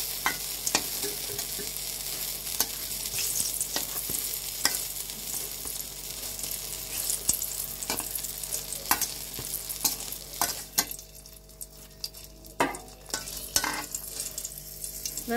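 Eggplant slices fry in hot oil with a continuous sizzling hiss, punctuated by frequent clinks and scrapes of a utensil against the pan as pieces are turned and lifted.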